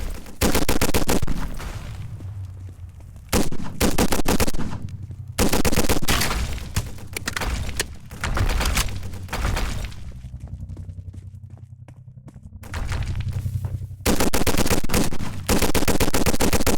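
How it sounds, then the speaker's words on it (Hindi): Gunfire in the Roblox Gun Game, loud rapid automatic bursts that come in repeated clusters with short gaps between them, harsh and close, with no talking. "फिर से मैं गन ही चलाता हूँ"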